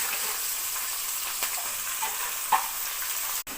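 Chopped onions frying in a pan for masala kuzhi paniyaram give a continuous close sizzle with light crackles, and a sharp clink sounds near the end.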